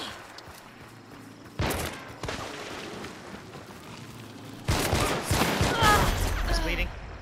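Gunfire in Hunt: Showdown, a sharp broadband burst near the start followed later by a louder, sustained crackling volley, heard amid ambient game noise.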